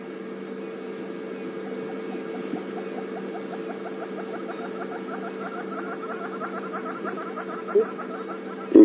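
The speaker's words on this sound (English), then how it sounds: "You can hear some yellow-billed hornbills calling off in the background." Yellow-billed hornbills call in the distance on an evening safari drive, a steady run of soft clucking notes repeating over a constant low hum, with a couple of brief knocks near the end.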